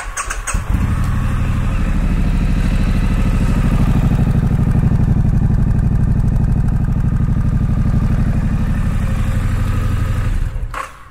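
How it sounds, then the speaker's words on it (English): A 2019 Triumph Street Scrambler motorcycle engine cranks and fires, settling into a loud, close, throbbing exhaust note that runs for several seconds before cutting off. "We are going to fire this bad boy up and listen to the exhaust note."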